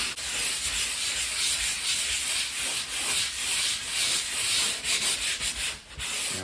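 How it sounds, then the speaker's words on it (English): Light hand sanding of jointing compound over a drywall plasterboard repair, a continuous close, hissing scratch with rhythmic back-and-forth strokes and no talking. "I've just given that a very light sand."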